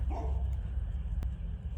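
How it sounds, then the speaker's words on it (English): A dog barks a few times at a distance over low rumbling background noise, with one sharp click partway through. "There's a dog"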